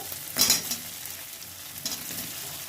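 Fried vegetables are stirred into sizzling spice paste for Bengali shukto, with a couple of scraping stirs over a quiet, steady frying hiss.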